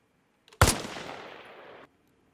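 A single sniper rifle shot firing an FMJ round in Arma Reforger, a sharp loud crack followed by a long rolling decay that cuts off abruptly, with no talk.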